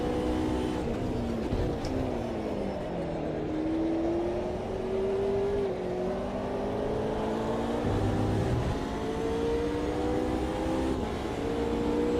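Race car engine in the sim racing game Automobilista 2, a sustained droning whine that rises and falls with revs through the whole stretch, steady and fairly loud.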